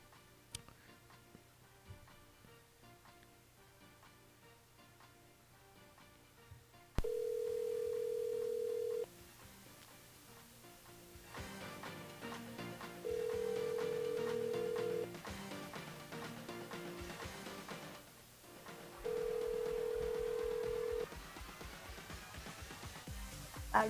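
Telephone line ringing during a live radio call-in show, three steady electronic ring tones spaced evenly a few seconds apart over quiet background music, with no talking.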